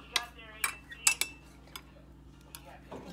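A utensil clinks against a container while stirring homemade hand sanitizer, producing several sharp, irregular taps and scrapes, close and fairly clear, with faint background hum.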